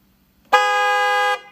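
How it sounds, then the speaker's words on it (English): A single sustained car horn blast, loud and close, lasting just under a second after a brief quiet start. "It's a car horns."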